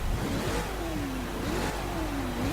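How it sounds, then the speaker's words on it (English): A deep, rumbling V8-style American muscle car engine in the racing game Forza Horizon 3 revs and drops in pitch repeatedly, a steady growl with swelling throttle blips and no voices. "straight into this very big American muscle car. So let's listen to it first."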